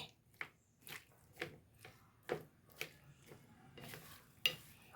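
Chopped vegetables and fruit being tossed together for a salad: capsicum, grapes, mango and tomato. Soft, irregular clacks of a utensil against the bowl come every half second or so, close by and fairly quiet.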